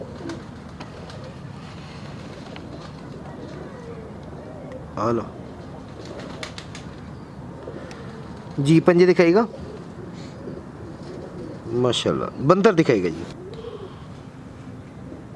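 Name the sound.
pigeons cooing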